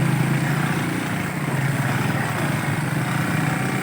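Tractor engine running steadily on a village road under repair in rural Azad Kashmir, a continuous low chugging drone at moderate distance with no talk.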